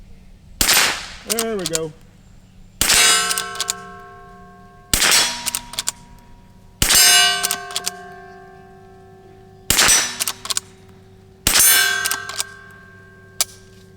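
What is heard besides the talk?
22 Rossi Rio Bravo rifle shots ringing steel target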